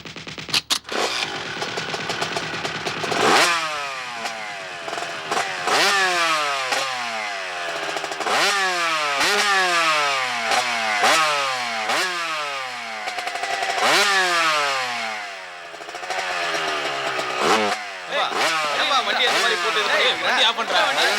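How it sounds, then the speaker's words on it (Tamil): A motorcycle engine revving loudly and repeatedly in rising and falling sweeps, close by and continuous for about twenty seconds, with people talking over it. "வண்டியை ரேஸ் பண்ண சத்தம் வரும்ல, ஊரெல்லாம் கூட்டிடும்."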